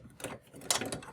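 A screw-type ring is twisted tight onto a utility meter collar over a ringless meter pan, giving a few quiet close ratcheting clicks and scrapes.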